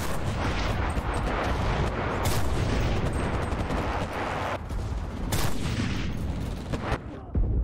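Artillery and gunfire in the WW2 shooter game Enlisted: a dense, loud wall of rattling shots and booming blasts, continuous with a few sharper cracks and brief dips.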